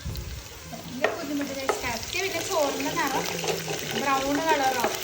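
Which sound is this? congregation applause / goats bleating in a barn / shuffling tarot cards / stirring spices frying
stirring spices frying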